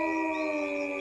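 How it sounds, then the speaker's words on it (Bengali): A jackal gives a long, sustained howl, loud and steady, as an eerie night sound effect for a horror story. "মাঝে মাঝে শিয়ালে হু হু চিৎকার"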